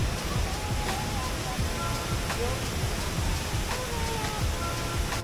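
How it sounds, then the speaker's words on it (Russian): A tall, powerful waterfall in Bali roars as a continuous, loud, broadband rush of falling water, steady throughout with no breaks. "водопад шикарный. Во-первых, он очень высокий, мощный, красивущий вообще."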